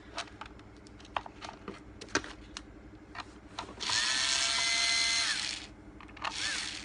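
A power screwdriver or drill backs screws out of a weatherproof outdoor 4G SIM CCTV camera. Scattered clicks and handling taps lead into a steady whirring run of about two seconds, with a brief second burst at the end.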